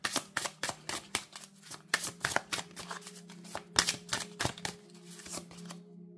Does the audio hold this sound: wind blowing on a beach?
no